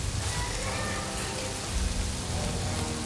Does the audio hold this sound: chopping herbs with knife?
no